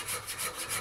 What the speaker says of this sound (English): Hopefully my saw stays in those kerf lines.